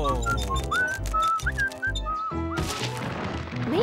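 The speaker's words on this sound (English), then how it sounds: "Must you always whistle the same tune?" A cartoon character whistles a repetitive melody in clear sliding notes, then breaks off into a short musical sting with other sounds, close and fairly loud.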